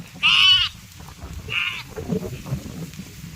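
A sheep in the rainy season gives a loud, close bleat, followed a second later by a shorter, softer one, with low rustling and background noise afterward.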